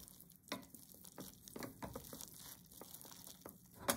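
Instant ramen noodles are stirred with their included sauce in a pot, giving soft, close, irregular wet slaps and scrapes under a faint steady hiss.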